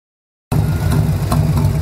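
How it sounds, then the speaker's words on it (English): A Harley motorcycle engine runs at a steady idle, cutting in abruptly after a brief silence and holding a loud, close, low rumble to the end. "Look at Bob driving the bike"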